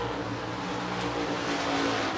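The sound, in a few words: IMCA stock cars racing after the green flag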